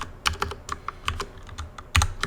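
Computer keyboard typing, a short burst of crisp, close key clicks in an uneven rhythm with a heavier thump near the end, alone without speech.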